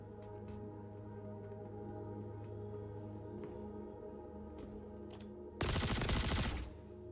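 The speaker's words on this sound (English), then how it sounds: "Grenade launcher." A grenade launcher fires in Star Citizen, a roughly one-second burst of loud, broadband blasting that stands out sharply against a faint, steady background hum.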